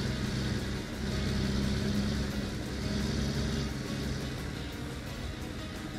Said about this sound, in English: ENDTB engine, which sounds really amazing in my opinion